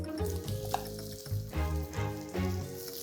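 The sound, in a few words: chopped colocasia (arbi) frying in oil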